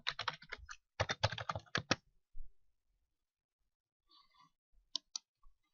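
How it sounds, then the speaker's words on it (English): Clacking keystrokes on a computer keyboard as login details are typed, dense bursts of close key presses in the first two seconds followed by a few scattered taps, with no talking. "you are going to type your login information"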